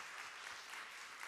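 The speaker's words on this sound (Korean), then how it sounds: "오늘 귀한 말씀을 전해주신 목사님께 저희 감사의 박수를 보내드리겠습니다." Young-adult church congregation at a Sunday joint worship service gives the pastor a round of applause, a soft, steady patter of many hands heard from a distance at low volume.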